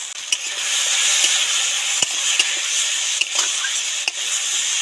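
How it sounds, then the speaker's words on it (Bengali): Chopped vegetables and onions fry in oil with turmeric and chilli powder while a spoon stirs them, giving a steady close sizzle with scraping strokes and soft knocks against the pan. "এবার একটু হলুদ গুঁড়ো আর লঙ্কা গুঁড়ো দিয়ে ভালো করে নাড়াচাড়া করে মিশিয়ে দেব"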